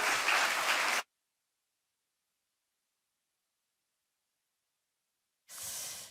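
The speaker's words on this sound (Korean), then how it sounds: "우리 박신혜 목사님 나올 때 큰 격려의 박수 부탁드리겠습니다" Applause from a church congregation welcoming a pastor to the pulpit during a Sunday worship service, a dense burst of clapping that stops abruptly, then after a long silence a second round of clapping starts up.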